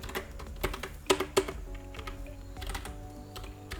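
Code being typed on a computer keyboard while setting up a Wio Terminal program, a steady run of close, crisp key clicks with a few louder stabs, no talking.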